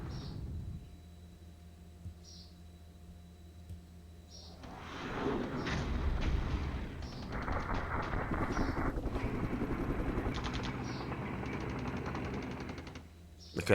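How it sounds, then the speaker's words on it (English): Units firing in the Cold War strategy game Flashpoint Campaigns: a steady low rumble with scattered distant shots and a burst of heavier combat noise building midway, continuing at moderate volume. "I hope you can hear the sound of the units firing and whatever"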